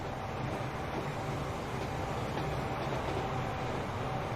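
Trains roll along in the Transport Fever 2 video game, a steady dense rumble and clatter of rail cars with a faint high tone, continuous and moderately loud without pauses.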